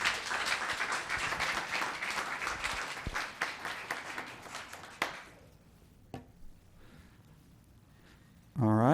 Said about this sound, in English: One more round of applause for Franklin.